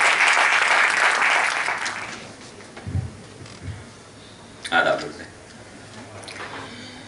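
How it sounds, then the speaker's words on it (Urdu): An audience at an Urdu literary tribute event applauds loudly for about two seconds, then the clapping fades into a quiet room with a few scattered bumps and handling noises. "بہت زور تالیوں کے ساتھ احمد شہبار سے"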